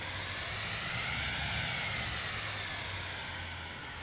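A small jet aircraft taxiing across a grass field in a flight simulator, with a steady, loud, broad engine roar and a faint high whine that stays constant throughout, with no talking.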